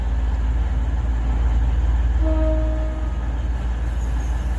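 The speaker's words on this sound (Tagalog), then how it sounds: "Yan po ang papuntang Warnton na train at 1:22 PM." A suburban train rumbles into a station on a line toward Werribee, a loud steady low roar with a brief tonal whine from the wheels or brakes partway through.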